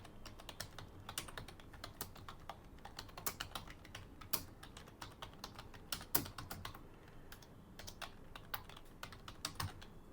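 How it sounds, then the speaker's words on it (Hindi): Keys clack on a computer keyboard in irregular bursts of quick typing with short pauses, fairly close and quiet, with no voices. "ये थोड़ा सा मैं टाइप कर देता हूँ"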